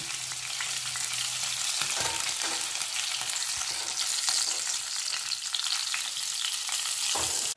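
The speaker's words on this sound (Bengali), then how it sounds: "বাকি মাছগুলো আমি একইভাবে ভেজে নিচ্ছি" Pieces of pomfret fish sizzling in hot oil, a constant crackling hiss near the listener with occasional scraping stirs and knocks from a spatula, no speech.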